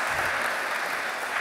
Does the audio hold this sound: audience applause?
yes